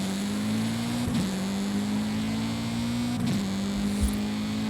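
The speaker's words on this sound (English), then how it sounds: "Does the engine sound like it's struggling every time it changes up?" A tuned car accelerates up the drag strip in the video game Forza Horizon 5, with a steady engine drone that climbs in pitch, then drops sharply at two gear changes before rising again.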